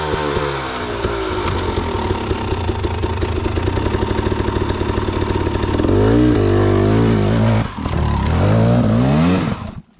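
An enduro motorcycle engine revs hard on the throttle during a loop race, a loud close snarl that rises and falls in pitch before cutting off abruptly at the end.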